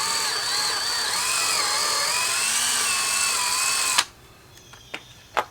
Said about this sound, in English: a 1/4 inch drill bit. I just want to use it to create some pilot holes.